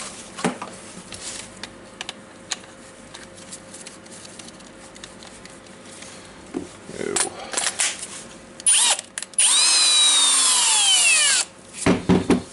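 A Milwaukee power drill tightens the screw in a replacement metal chuck, after a stretch of quiet handling and clicking. The motor whirs up to speed in a rising whine for about two seconds, then gives a short final burst, close and loud.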